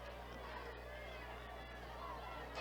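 Distant crowd at a high school football game between Caldwell County and Hopkinsville, a faint steady murmur and cheer from the far-side stands, with a low electrical hum and an announcer's voice.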